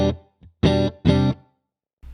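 Clean electric guitar through the Neural DSP Archetype Cory Wong plugin with compressor and light room reverb, a few short plucked chords and stabs, close and fairly loud, separated by silent gaps.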